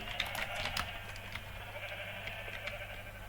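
Minecraft sheep bleat several times in overlapping calls over a steady background hum, at moderate loudness.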